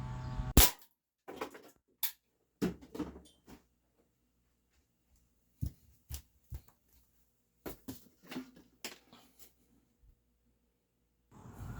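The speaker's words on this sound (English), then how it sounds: "Five shots to the tin bottom of the coffee can, and seems like they all went through" Crosman lead-free pellets fired from an air gun into the tin bottom of a coffee can, giving sharp, close, separate impacts with pauses between them and a few fainter knocks.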